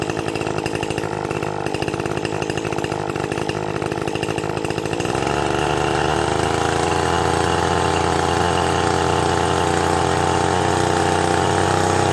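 A gas string trimmer engine runs loud and close after the choke is set, buzzing roughly at first and then settling into a steadier, smoother idle drone about five seconds in.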